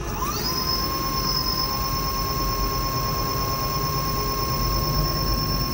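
Modified Xmen electric scooter motor spinning unloaded on a test run with five 63V batteries and a stock controller, a steady high electric whine holding a constant pitch throughout, smooth and continuous with no speech.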